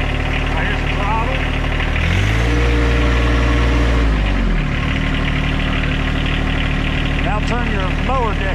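A John Deere 1025R compact tractor with backhoe and 60-inch mower deck idles steadily nearby, its engine briefly rising in pitch mid-clip before settling back, while people talk over it.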